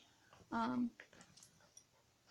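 A short, high whine from a puppy, faint and close, followed by quiet rustling and someone speaking softly.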